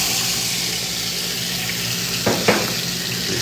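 Bell pepper frying in a pan as moqueca is started in a restaurant kitchen, a steady broadband sizzle throughout with a couple of brief louder crackles near the end; no talking.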